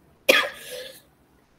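A single sharp cough bursts out from a speaker in a Malay-language classroom lecture, trailing into a raspy rasp before silence, with another cough just starting at the very end.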